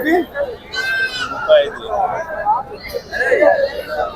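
Large rams bleat at a busy weekly livestock market, with one loud, wavering bleat rising over steady nearby bargaining talk and crowd chatter.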